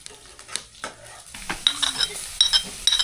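Cumin seeds dropped into onions frying in a pan, with a soft sizzle under brisk stirring and scraping of a spoon against the pan, plus occasional light clinks of utensils, close and fairly quiet.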